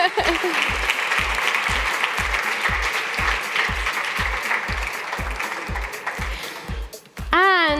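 Audience applause fills an awards presentation on a main conference stage, dense steady clapping with a regular thumping beat underneath, ending in a short rising electronic sweep.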